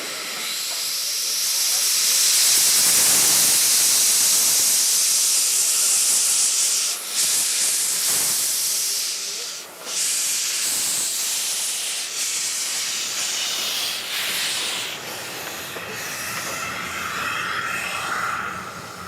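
An Austrian Class U tank steam locomotive releases a loud, continuous broad hiss of steam on a winter rail yard, with a few brief dips and faint knocks partway through.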